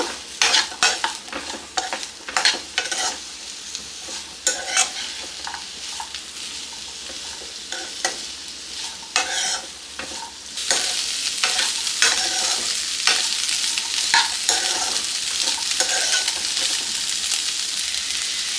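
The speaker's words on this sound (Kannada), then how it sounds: "ಅರ್ಧ ಚಿಪ್ಪಾಗುವಷ್ಟು ತೆಂಗಿನಕಾಯಿ, ಈಗ ಇದನ್ನು ಫ್ರೈ ಮಾಡ್ಕೊಳ್ಳೋಣ." Grated coconut frying in a pan for a Kannada kadalebele kootu curry, a constant sizzle broken by repeated scraping stirs that grow denser and louder in the second half, with nobody speaking.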